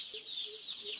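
Chickens on a large poultry farm, a brief burst of close clucking calls repeated about three times within a second, with a dense background of other birds.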